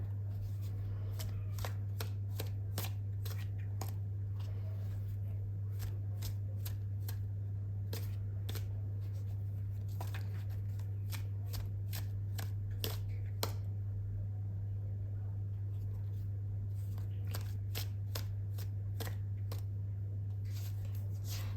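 Tarot cards shuffled by hand for a pick-a-card reading, a long run of quick papery riffles and flicks at close range over a steady low electrical hum, with no talking.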